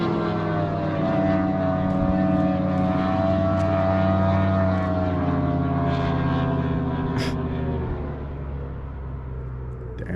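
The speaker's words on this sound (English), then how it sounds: "It's the guy who drives his boat at like 130." A high-speed motorboat on a lake during a summer fishing trip roars past in a steady, powerful engine drone that holds loud and then fades slightly at the end.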